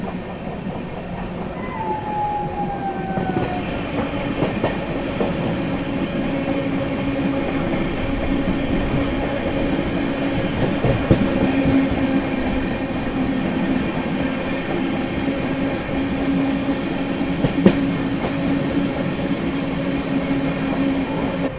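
From aboard the Kaifiyaat SF Express, the train runs through Hathras Junction without stopping in fog, giving a steady loud rumble with faint wheel clatter and a thin squeal, and no voices.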